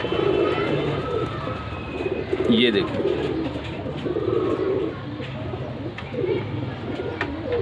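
Chounsre pigeons coo softly and repeatedly under a voice talking nearby, with faint rustling and background hum.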